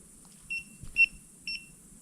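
A flashlight emits three short, thin electronic beeps evenly spaced about half a second apart, faint and close in an otherwise quiet room, with a soft thump between the first two.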